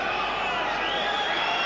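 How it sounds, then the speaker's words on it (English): A boxing crowd at the Chris Eubank vs. Johnny Melfah middleweight bout cheers as Melfah lands a punch. It makes a steady, dense roar that holds level throughout and fills the arena. "Earns a cheer from the crowd"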